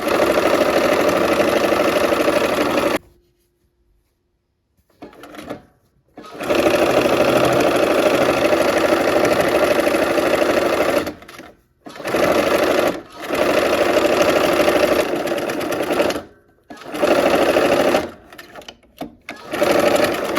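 A sewing machine stitching quilt strips and a blue square together for a flying geese block. It runs loud and steady in several long bursts, broken by brief stops and one longer pause near the start.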